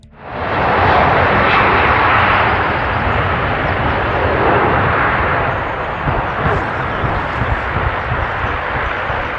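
A Boeing 757's jet engines roar loudly and steadily overhead during takeoff, a broad continuous rumble that holds without a break.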